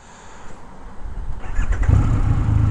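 A Triumph Rocket 3 R, a 2500 cc motorcycle, cranks and fires up close by, its engine catching and rising into a loud, steady rumbling idle after a brief starter whir.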